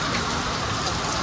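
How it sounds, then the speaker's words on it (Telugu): Heavy monsoon rain pours down outside a home, a steady dense hiss of drops striking surfaces close by with no pauses. "బయట మస్తు వర్షం పడుతుంది, చూపిస్తా."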